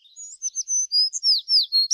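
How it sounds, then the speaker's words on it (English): A sparrow chirping in a quick series of bright, high tweets and short trills, close and clear with no other sounds. "It's a sparrow chirping"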